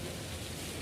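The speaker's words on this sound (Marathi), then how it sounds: "पावसाचे थेंब मोठे मोठे पडत आहे" Big drops of unseasonal rain pour steadily under dark storm clouds, a dense, even hiss of rainfall close by with no other sound.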